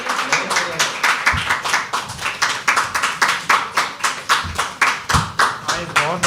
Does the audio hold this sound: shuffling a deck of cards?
no